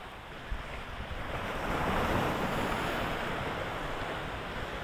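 Sea waves surge and break steadily against the shore at Montrose, a close, continuous roaring wash with wind buffeting the microphone and no talking.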